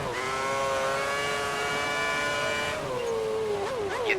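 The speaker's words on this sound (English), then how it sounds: "See and hear the wheel spin on power basically all the time." A Formula One race car in F1 2010 spins its wheels under power, the engine holding a high, steady whine before the pitch drops and wavers as the tyres scrabble, loud and close with no voices.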